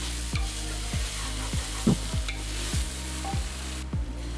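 Onion, potato and garlic sizzle steadily in a pan, a constant frying hiss broken by regular scraping stirs of a utensil against the pan, roughly every half second, close and fairly loud.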